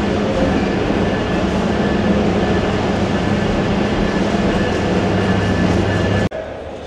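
The Suborno Express, a non-stop train from Chittagong, stands at Kamalapur railway station under a loud, steady rumble and hum that cuts off sharply near the end.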